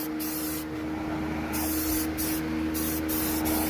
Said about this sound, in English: I'm tired of looking at it, that's why I'm spray painting it.